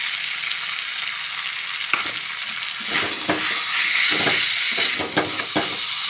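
Continuous sizzling of boiled amla in a pan for pickle, with repeated scraping strokes of stirring, close and fairly loud, no voices.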